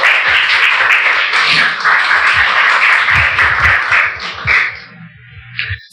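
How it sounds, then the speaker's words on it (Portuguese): Church congregation applauding during a service, a loud dense wash of clapping from many hands that gradually thins out toward the end. "Você pode aplaudir o Senhor nesta noite."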